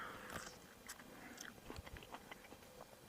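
Someone bites and chews crunchy Black Crystal watermelon up close, a quiet run of wet, crisp crunches and chewing with no talk.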